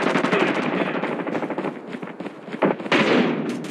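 Bursts of automatic weapon fire in Call of Duty Mobile ranked multiplayer, rapid rattling volleys broken by a few heavier single cracks, loud and close throughout.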